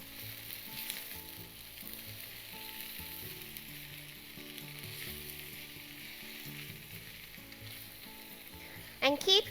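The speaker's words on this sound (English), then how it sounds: "Saute it for 7 minutes or so, and it's nicely browned all over." Tofu bites sauté in a pan, giving a faint, steady sizzle with occasional stirring under soft background music, ending in a short burst of louder clatter.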